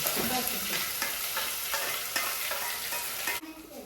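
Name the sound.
masala paste being sautéed and stirred in oil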